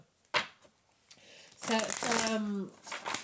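Tarot cards are shuffled up close in a quick rustling burst, followed by a longer stretch of papery card handling while a voice sounds briefly.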